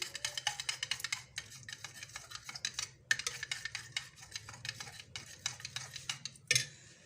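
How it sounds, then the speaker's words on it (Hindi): Half a cup of yogurt for mutton masala is whisked briskly in a bowl, giving rapid rhythmic ticking clicks in long bursts with short pauses, close and clear, with no voices. "लेकिन जहाँ पर मैंने लिया आधा कप दही का, इसको थोड़ा सा फेंट लूँगी।"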